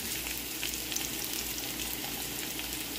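Ginger sizzles in a pan for chicken tinola, a dense, even frying hiss held at constant strength for a few seconds, with nothing else over it.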